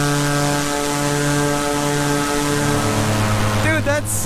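A paramotor engine and propeller run close and loud as a steady high-revving drone holding near constant pitch, with a slight shift in tone partway through and a brief flutter near the end.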